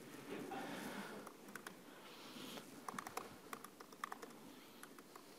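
Quick, uneven typing on a new Mac keyboard, soft close key clicks in short bursts over a low background hiss.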